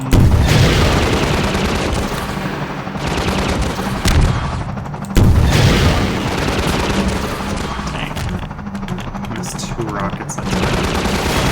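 Rocket explosions and heavy gunfire in Half-Life 2 along Highway 17, a loud, dense barrage of booms and rapid shots that rolls on continuously, with a fresh blast partway through.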